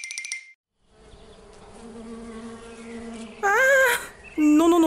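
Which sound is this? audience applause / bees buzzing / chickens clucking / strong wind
bees buzzing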